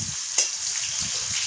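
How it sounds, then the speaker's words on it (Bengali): Chopped onion, garlic and green chilli frying in a pan for steamed jackfruit, a steady hiss with a sharp clatter of stirring near the start and soft low knocks throughout. "ভালো করে ভেজে নিতে হবে"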